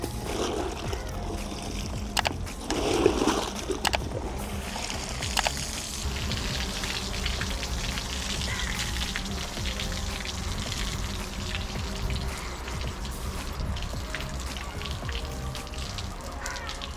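Riding gear is dipped and rinsed in plain water, giving soft continuous splashing and dripping nearby, with a few sharper splashes early on.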